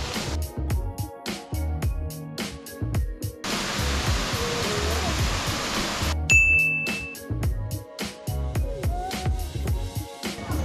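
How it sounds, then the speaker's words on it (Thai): Waterfall at a waterfall park in Phetchaburi, Thailand, heard as a steady rushing roar for a few seconds midway, with rhythmic music playing before and after. "ครับตอนนี้เรามาถึงแล้วนะครับผม อุทยานน้ำตกฝั่งโจนะครับ"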